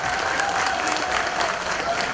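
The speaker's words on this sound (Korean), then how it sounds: "보다 보니까 박수가 작더라고. 한번 더 때려보세요." Audience applause at the Boeun Jujube Festival in South Korea, cheering on a band of county officials: steady, dense clapping from a sizeable outdoor crowd that fills the whole stretch without pause.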